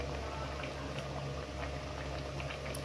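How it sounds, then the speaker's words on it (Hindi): A pot of mutton white biryani simmers with a low, steady bubbling as cream is spooned in, a quiet close burble with no voices. "एक कटोरी क्रीम इसमें मैं 2 स्पून क्रीम डाल रही हूँ।"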